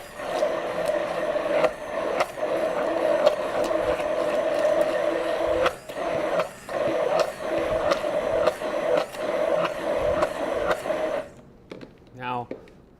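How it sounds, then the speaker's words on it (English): A blender purees a mayonnaise-style sauce with lemon juice and basil, giving a loud, steady motor whir for about eleven seconds with brief dips before it shuts off near the end. "I'm going to add just a little lemon juice and basil, puree that up."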